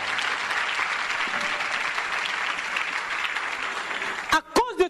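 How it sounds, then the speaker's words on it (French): A church congregation applauds the Lord at a Friday family service, a steady wash of clapping from a crowd, with a voice breaking in briefly near the end. "Est-ce qu'on peut acclamer le Seigneur?"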